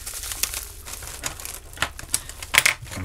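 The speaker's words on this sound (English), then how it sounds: "Can we just unwrap this one?" Plastic packaging crinkles and rustles as a packaged cable is unwrapped, close-up, with irregular crackling bursts and sharper crinkles toward the end.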